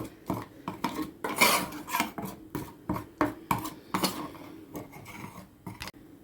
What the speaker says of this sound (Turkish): Hemen bir e, çay kaşığı kırmızı toz biberimi atıyorum içerisine. Karıştırıyorum.